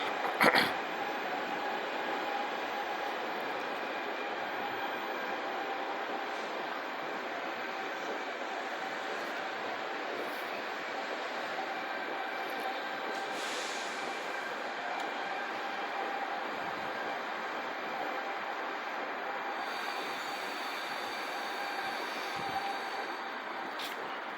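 A Koleje Małopolskie Flirt electric multiple unit train hums steadily as it departs Kraków Główny, with a sustained tonal whine that holds for the whole stretch at moderate distance.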